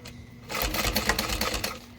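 A sewing machine stitches a backpack strap in a short close burst of rapid needle clatter, starting after a brief quiet moment and stopping again within about a second.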